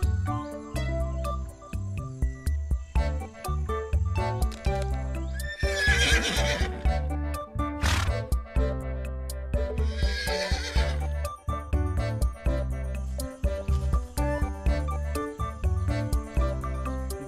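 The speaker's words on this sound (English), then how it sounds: "this is horse" A horse neighing twice, loud and close, over a steady rhythmic clip-clop of hooves with a chirping insect background and a sharp click between the whinnies.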